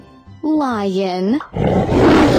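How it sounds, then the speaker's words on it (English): A lion roars loudly and gruffly for about a second, following a brief voiced, pitch-sliding sound. "Lion."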